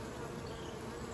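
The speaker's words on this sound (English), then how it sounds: "Oh, look, a little boy bee right there." Honey bees hum at a hive in a dense, steady buzz with no break, with a larger drone among the workers, close and moderately quiet, with no talking.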